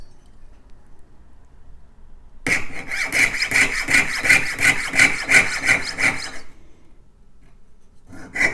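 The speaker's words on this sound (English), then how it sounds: "So now I can take my jeweler saw and cut this out" A jeweler's saw cuts through small earring stock in a quick burst of about ten close, rhythmic rasping strokes lasting roughly four seconds, then a brief restart at the end, with no speech.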